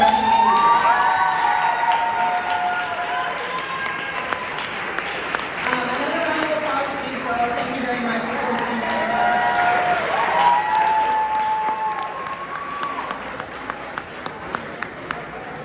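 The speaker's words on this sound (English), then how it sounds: "Wonderful round of applause for our middle school girls soccer coach and assistant college" A banquet audience applauds and cheers throughout a sports awards evening. Sustained clapping mixes with crowd noise and a few shouts, and talking and tones are heard over it.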